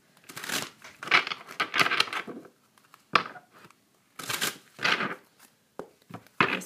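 Tarot cards shuffled by hand in bursts of crisp riffling and slapping, loud and close, with short pauses between the shuffles and no talking.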